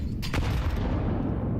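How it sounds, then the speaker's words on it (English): A grenade goes off in a Counter-Strike match, a sudden booming blast at the start that fades into a rumbling, noisy tail. "That nade."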